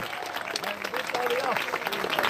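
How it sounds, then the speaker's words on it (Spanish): Church congregation clapping in praise, a fairly soft, continuous wash of applause with voices and shouts mixed through it. "Dele fuerte aplauso al Señor en esta hora"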